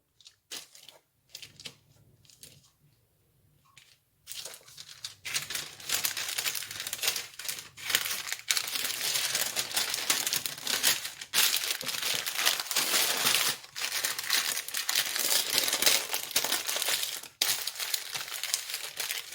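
Parchment paper crinkles and crackles loudly and near as butter is laid on it and spread into a rectangle for chocolate croissant dough, starting with a few sparse rustles before a long dense run of crinkling.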